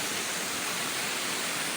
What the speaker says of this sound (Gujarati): વળી પાછું જો અહીંયા પાણી ચાલુ થઈ ગયું હોય